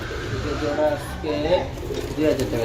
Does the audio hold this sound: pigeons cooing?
yes